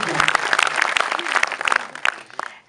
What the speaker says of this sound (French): On peut encore les applaudir parce que ça bosse